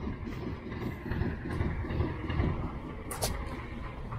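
A narrow-gauge railway train at a coastal defence museum rumbles along with a low, uneven mechanical rumble and rattling rhythm, moderately quiet, with a brief high squeal near the end.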